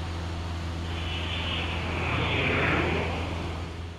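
Small airplane in flight between Grand Forks and Bozeman, a steady droning engine hum with a rising and fading airy swell, heard from inside the cabin, no talk.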